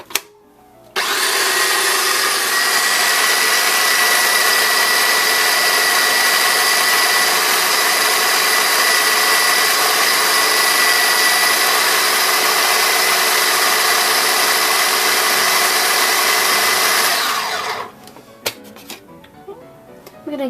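Food processor blending ingredients for bun thit xao xa, a loud continuous whirring roar running steadily for about sixteen seconds before cutting off, heard up close and alone.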